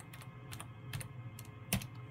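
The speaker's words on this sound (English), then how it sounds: "so we just simply type initialize" Commands are typed on a computer keyboard while resetting a 3Com 4400 managed switch, a sparse run of about six quiet, crisp keystrokes with one harder tap near the end, alone in a hushed room.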